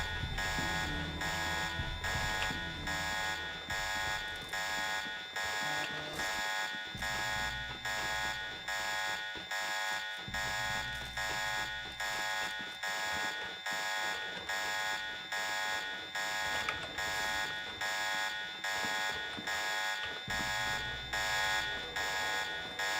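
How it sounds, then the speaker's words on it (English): Continuous electronic alarm in the Deus Ex video game, a rhythmic pulsing buzz-ring repeating steadily for the whole stretch over low game ambience, moderately loud and unbroken. "Killing the maid activates the alarm."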